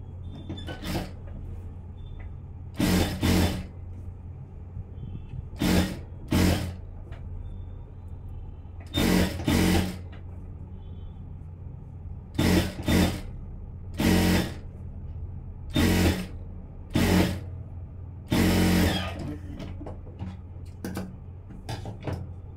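A sewing machine stitches along the edge of a blouse piece in short whirring bursts of about a second, repeated with pauses between them, over a constant low background hum.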